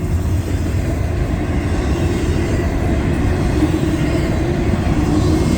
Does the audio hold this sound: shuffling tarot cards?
no